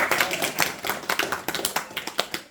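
A small audience at a Bhagavad Gita study gathering gives a short round of applause, uneven hand claps close by, moderately loud and fading toward the end.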